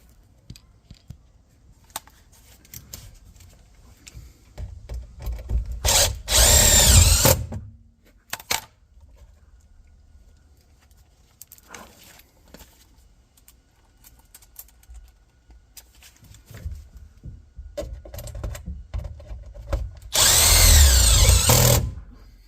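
A power drill drives screws into a flange on a central air HVAC system, two loud sustained whirring bursts separated by quieter handling clicks and rustling, with no talk.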